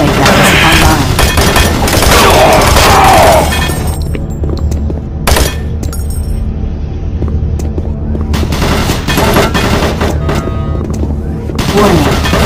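Automated turret guns in Doom 3 rattle off loud rapid-fire bursts, a heavy continuous volley at first, then separate sharp shots and short bursts spaced apart.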